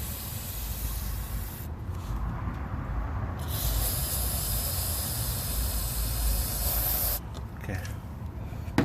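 An aerosol can sprays in a continuous loud hiss into a 2008 Toyota Highlander's components, with brief pauses and changes in intensity; a voice speaks briefly.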